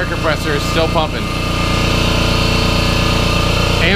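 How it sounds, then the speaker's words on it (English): A steady mechanical air compressor motor drones loudly and continuously, close by, with a brief voice-like murmur near the start. "My air compressor is still pumping."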